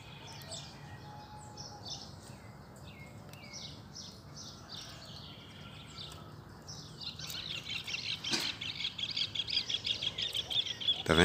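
A papa-capim (coleiro) songbird sings in a steady series of bright chirps and trills with other birds in the background, growing louder and more insistent toward the end.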